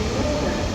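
A train pulls into Liverpool Lime Street from Blackpool North with a steady, loud low rumble of wheels and engine that fills the platform, and no talk is heard.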